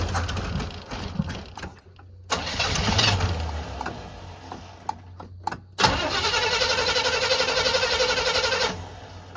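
A 1985 Chevrolet square body truck that sat for over ten years, its engine cranking: a few short starter bursts, then one long steady churn up close, with no talking.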